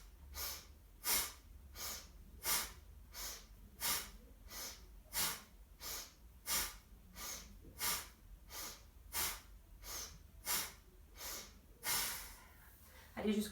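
Bhastrika yoga breathing: about eighteen rapid, forceful nasal exhalations in a steady rhythm, each a sharp breathy burst, close and clear with a low room hum beneath and no talk.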